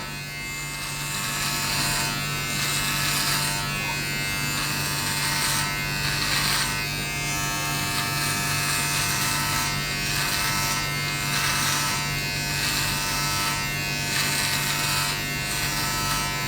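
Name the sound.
Manscaped Lawn Mower 3.0 Plus electric trimmer shaving chest hair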